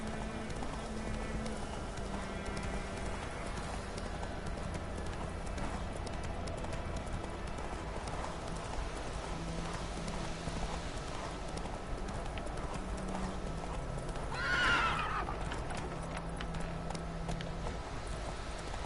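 A horse gallops in The Witcher 3 video game, with a steady rapid clip-clop of hooves running throughout at moderate volume and a brief louder swell near the end, amid ambient game sound.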